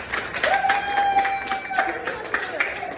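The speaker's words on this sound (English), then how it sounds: "we're going to give you a huge round of applause" An audience at a student knighting ceremony applauds and cheers, a busy mix of clapping and crowd noise with a sustained tone and voices mixed in.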